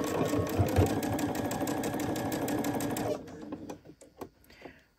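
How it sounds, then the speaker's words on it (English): A home sewing machine with automatic backstitch stitches steadily in a fast, even mechanical rattle for about three seconds, then stops, leaving a few faint clicks and handling sounds. "My machine does have automatic backstitch, so I'm going to tell you right now to backstitch in case I forget to do it, because my machine's doing it for me."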